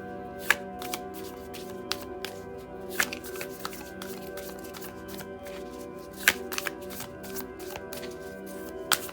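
Tarot cards being shuffled by hand, a quiet run of soft riffling flicks and taps with sharper snaps at irregular intervals over a faint background hum.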